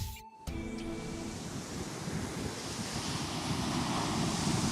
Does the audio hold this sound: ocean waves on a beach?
yes